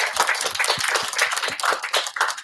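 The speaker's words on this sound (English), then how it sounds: "Now we applause to them. Let's do that." Audience at a Python Christmas meetup clapping for a couple of seconds, with a dense, uneven patter of many hands in a small room, close and moderately loud.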